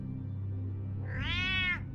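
A single drawn-out cat meow in Batman Telltale, rising and falling over about half a second, heard close and clear above a low steady hum.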